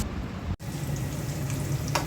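Papad and sweet pumpkin frying in oil in a pan, giving a steady close sizzle that runs throughout with one brief dropout and no talking.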